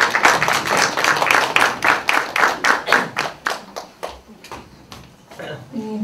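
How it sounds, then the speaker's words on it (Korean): An audience at a university lecture claps in a steady rhythm of sharp separate claps that slowly thin out and fade, with a voice starting at the end. "자, 박수 한번 쳐주세요."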